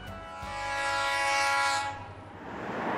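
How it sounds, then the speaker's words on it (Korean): A train on the Gyeongbu line pulls into Okcheon station in North Chungcheong, sounding a loud, sustained horn blast that cuts off and leaves the low rumble of the rolling train. "나홀로 기차를 타고 경부선이 지나는 옥천역까지 내려왔는데요"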